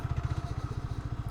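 A motorcycle engine idles on a city road, a steady, close, rhythmic low putter over a brief moment.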